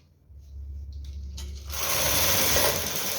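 A knitting machine carriage being pushed across the needle bed for several rows, starting with a low hum and light clicks, then swelling into a steady, bright mechanical rasp that stays close and continuous.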